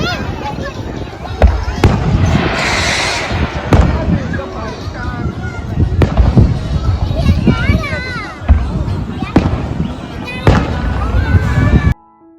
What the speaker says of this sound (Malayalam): പിന്നെ ഫയർ വർക്കെല്ലാം ഉണ്ടായിരുന്നു കേട്ടോ